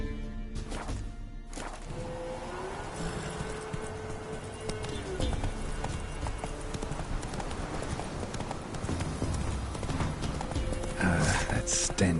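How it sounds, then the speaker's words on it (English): Hooves of a galloping horse in the video game The Witcher 3 drum in a steady clip-clop rhythm under game music and ambience, with a brief voice cutting in near the start. "Run, Roach."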